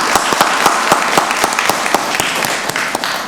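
A room at a Rockdale County board of commissioners meeting gives a pastor a round of applause, dense steady clapping from a modest crowd, close and even throughout.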